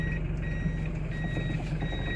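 An automatic car in reverse gear gives off a repeating electronic reversing beep at a steady rhythm, moderately near over a low engine hum, with no talk.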